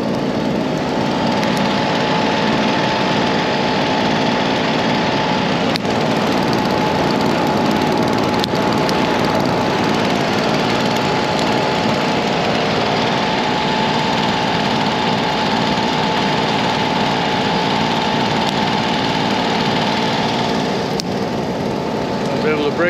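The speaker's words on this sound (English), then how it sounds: "We got the leaf blower on it." A leaf blower drones steadily and loudly throughout, a constant engine whine pushing air onto a burning pile of timbers outdoors.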